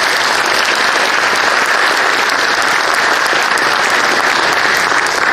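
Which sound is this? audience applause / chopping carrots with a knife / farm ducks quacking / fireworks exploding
audience applause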